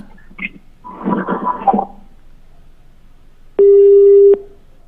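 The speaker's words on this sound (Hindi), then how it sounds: "अभी वो फोन पर मौजूद थे, फोन लाइन कट गई है।" A telephone busy tone sounds after the line drops during a live news phone link. It is a single loud, steady tone lasting under a second, preceded by brief muffled talk and crackle.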